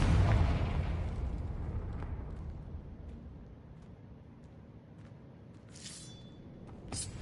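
Confringo fire spell explosion in the Hogwarts Legacy video game, a loud booming burst at the start that rumbles and fades over several seconds, followed by faint crackles and a sharp flick near the end, with no talking.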